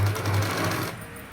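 A sewing machine runs in a brief close burst of rapid, steady stitching along a dress top neckline, then slows and fades, with no talk.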